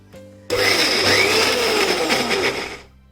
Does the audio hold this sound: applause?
no